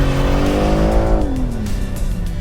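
A BMW M3 Competition slides sideways with its engine roaring loud and close, the revving pitch climbing and then dropping, while the rear tires squeal continuously through the drift.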